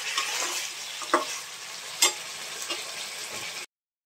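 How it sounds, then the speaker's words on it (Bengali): Curry being stir-fried and reduced in a pan, a steady broadband sizzle with a few sharp scrapes or clinks of the spoon, fairly close and moderately loud, ending abruptly in silence. "এখন ভালো করে এটা কষাই নিই, রান্নাটা শেষ করি"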